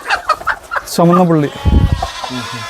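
Spotted hens, black-speckled and red-speckled, on a farm, giving soft clucks and a drawn-out squawk close by, with someone talking over them.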